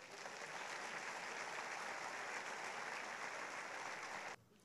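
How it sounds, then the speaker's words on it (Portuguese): Members of a Pentecostal church congregation in Brazil applaud the Lord together, a continuous dense patter of clapping that stays even throughout and cuts off abruptly just before the end. "Vamos aplaudir o Senhor"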